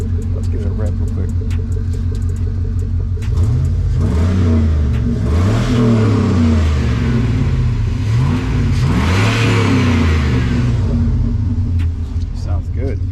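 A 2005 Chevrolet Silverado engine with a junkyard motor idles, then revs several times in rising and falling surges before returning to a rumbling idle, heard close up with some talk nearby.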